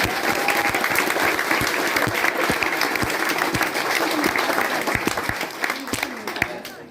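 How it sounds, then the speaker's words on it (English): A crowd at a 4-H Chick Chain poultry show and auction applauds the 4-H agent serving as judge, steady sustained clapping from many hands for several seconds with some talk underneath. "Y'all give him a round of applause for being with us."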